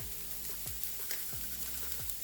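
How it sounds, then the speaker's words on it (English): Fried rice with salt sizzles in a frying pan as a faint, steady crackle, with soft scraping stirs recurring every half second or so. "Remember that you need to fry the rice for some time as well."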